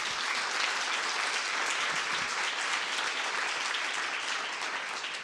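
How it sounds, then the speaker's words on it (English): A round of applause for presenters at a faculty showcase, steady dense clapping from a room full of people, fairly distant and even throughout with no talk. "If we can give them another round of applause."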